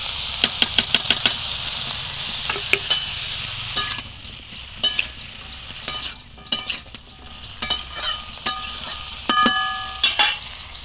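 Vegetables with fried small shrimp stir-fried with onion in a pan, loud repeated scraping and clattering strokes of a spatula in quick bursts over a constant close sizzle.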